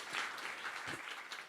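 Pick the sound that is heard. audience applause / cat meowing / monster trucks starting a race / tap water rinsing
audience applause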